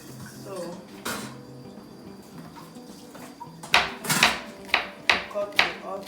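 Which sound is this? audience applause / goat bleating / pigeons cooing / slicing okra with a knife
slicing okra with a knife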